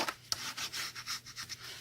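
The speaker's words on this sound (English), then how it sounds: "All right, let's burnish that down." A tool burnishing paper down for a Disney album: a quiet run of short rubbing strokes, close and soft, repeated in a steady back-and-forth rhythm.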